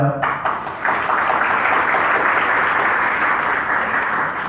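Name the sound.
audience clapping for named Coke Studio team members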